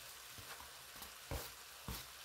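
Crabs frying in a pan for sautéed bitter gourd, a steady sizzle with a few louder bursts of crackle as food is stirred or added, close by with no talking.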